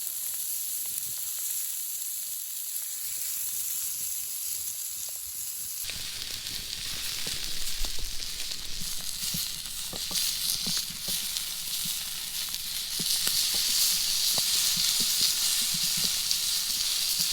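Steak and trout cooking on a hot rock outdoors: a thin hiss at first, then a louder, crackling sizzle that swells and keeps going, close up with no talk.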